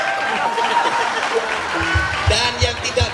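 Audience applause with some chuckling and crowd noise at an Indonesian comedy stage show, rising in the latter half as a loud burst of clapping under ongoing talk.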